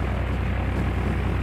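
The propeller engine of a Carenado F33A Bonanza in the X-Plane 11 flight simulator, making a loud, steady, buzzing drone that holds constant throughout with no voices over it.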